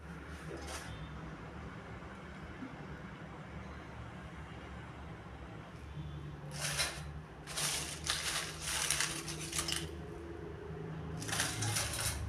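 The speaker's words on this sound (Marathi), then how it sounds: "मिक्सरमधनं हा सर्व मसाला आपल्याला काढून घ्यायचा आहे" A spoon scrapes freshly ground garam masala out of a steel mixer jar, making a few short scratchy, clinking bursts that come in irregular clusters near the end over a quiet room hum.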